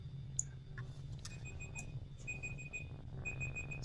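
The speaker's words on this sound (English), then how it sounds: "So that was the 10 minutes timer." A ten-minute countdown timer alarm goes off during a worldwide vvvv meetup, sounding as repeated high, thin electronic beeps in short evenly spaced bursts over a low steady background rumble.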